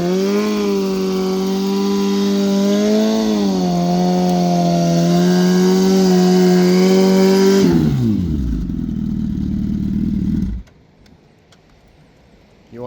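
A Gen 3 Suzuki Hayabusa drag bike screams at high, steady revs, the pitch rising slightly before the engine note drops sharply and winds down, then cuts to near silence.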